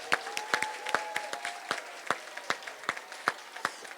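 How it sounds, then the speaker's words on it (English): An audience of parents and families at a school Terrific Kids ceremony applauds. Individual claps stand out sharply over a softer crowd patter, and a faint tone hums underneath. "Let's give them a round of applause again,"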